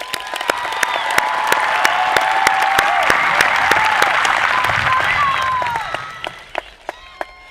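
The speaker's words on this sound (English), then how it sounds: "Give yourselves a round of applause." A large crowd of high school graduates at a graduation ceremony breaks into sustained applause mixed with cheering and whoops. The applause fades after about six seconds, leaving a few scattered claps.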